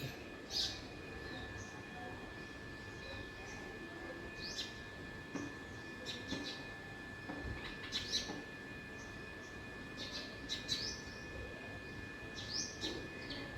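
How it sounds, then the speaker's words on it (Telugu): Sparrows chirp in short, scattered bursts at a moderate distance in the early morning over a faint steady hum and low background rumble. "కూర పిచ్చుకల వాయిస్ వినిపిస్తుంది కదా"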